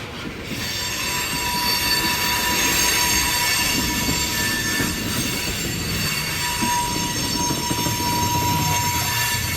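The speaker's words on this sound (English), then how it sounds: "that one has a bad flat spot on the wheel" Union Pacific freight train rolling out of Hull Ave Yard, its cars passing close and loud in a steady roar with squealing wheels and a rhythmic thump from a wheel with a flat spot, no talk.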